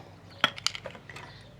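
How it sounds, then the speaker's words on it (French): Ice cubes drop into a glass of foaming homemade protein soda, giving a few bright, close clinks of ice against glass within about a second, then quieter rattles. "Je vais venir rajouter des glaçons"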